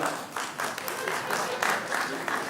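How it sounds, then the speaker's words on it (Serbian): Stand-up comedy audience at a Croatia-versus-Serbia duel breaking into applause: a dense, close wash of clapping hands for a couple of seconds with voices mixed in. "Ajde aplauzom."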